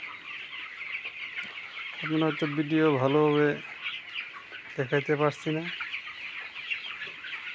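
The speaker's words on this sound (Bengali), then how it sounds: "এই সময় মুরগিগুলো অনেক সুন্দরভাবে ঘুমাইতেছে তারা" Chickens in a lit coop at night give two short bursts of soft, rapid clucking close to the microphone, separated by a pause, while someone talks throughout.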